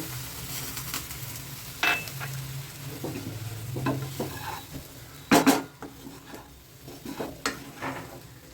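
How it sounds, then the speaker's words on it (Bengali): Oats being stirred with water in a pan, soft wet scraping and a low simmer with scattered clinks of a spoon against metal, including a sharper knock near the end, close and fairly quiet. "একটু নেড়ে দিচ্ছি আবার একটু দিয়ে ভালো করে নেড়ে দেব"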